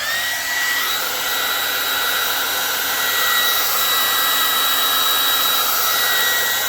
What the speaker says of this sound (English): Use a little heat from your wife's favorite hairdryer.